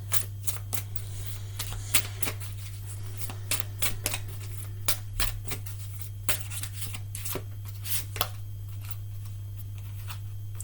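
Tarot and oracle cards being shuffled and pulled, giving repeated soft riffling flicks and sharp card snaps over a steady low hum, with no talking.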